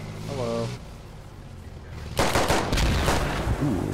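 Rifle fire in the tactical shooter Squad: after a quieter stretch with faint voice traces, a loud shot rings out and more cracks follow close behind, echoing over a steady background.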